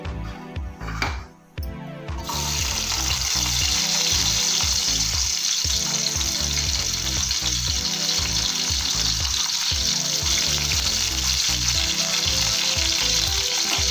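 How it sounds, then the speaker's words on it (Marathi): Onion dropped into hot oil for a dry prawn curry, hissing into a loud, steady sizzle that continues close up after a brief quieter moment at the start. "तेल गरम झालेलं आहे याच्यामध्ये मी आता कांदा घालून घेते"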